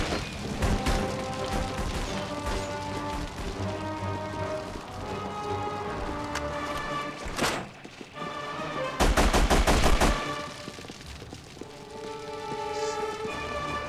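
Rapid gunfire from The Punisher on PS2, dense bursts of shots hitting barrels, with a sharp explosive crash partway through and continuing loud, crackling fire alone.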